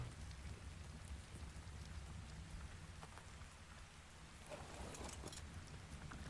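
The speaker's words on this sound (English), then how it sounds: "Of course it decides to rain when I'm in the morning when I want to go flying around." Steady rain in ARK: Survival Ascended on The Island map, a continuous dense hiss of falling drops with low rumbling underneath, soft and unbroken throughout.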